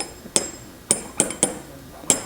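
Metal measuring block struck against a mold pin in a small workshop: five sharp metallic taps with a ringing edge, irregularly spaced, close and moderately loud with no talking.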